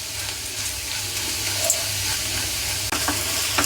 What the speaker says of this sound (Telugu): ఎల్లిపాయ ఉల్లిగడ్డ మొత్తం మిక్స్ అయిపోవాలి మనకి అంతే అంతే ఇట్లంతా మంచి వేపుకోవాలి